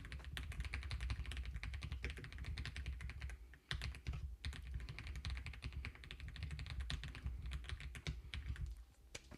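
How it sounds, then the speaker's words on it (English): Rapid, continuous clacking of keys on a mechanical keyboard, close up, with brief pauses between bursts of typing. "some might argue the whole point of a mechanical keyboard is to hear the clickiness of it"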